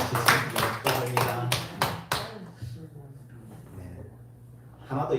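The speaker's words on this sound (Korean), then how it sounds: "우리 축하의 박수 드리겠습니다." A church congregation gives a short round of congratulatory clapping during a Sunday worship service, several sharp bursts of hand claps for about two seconds before the room falls quiet, with faint talk afterward.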